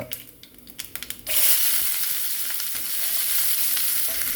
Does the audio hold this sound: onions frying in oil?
yes